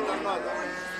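A bull at a cattle market gives one short, close moo, loud and alone, with no speech over it.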